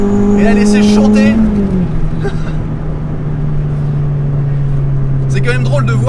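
A Renault Clio 2 RS engine sings loud and close as the car holds the inside line through corners, a steady tone easing slightly as revs shift, with road and wind noise underneath.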